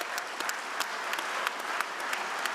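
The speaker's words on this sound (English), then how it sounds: "So quick round of applause for the Greater MSP." Audience applause at a community program event, dense steady clapping from a crowd with sharp individual claps poking out, sustained throughout.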